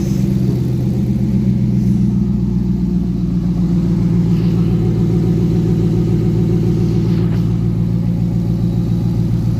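An engine runs with no exhaust pipe fitted, a loud, steady, throbbing drone with a deep rumble that holds unchanged throughout, close and alone with no voices.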